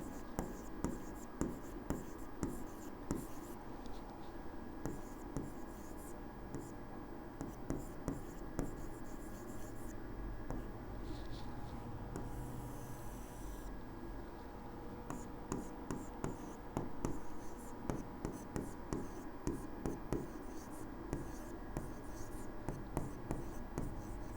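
A pen writing a math formula on paper makes steady scratchy strokes and small taps throughout. The sound is faint and close, under a teacher's ongoing speech.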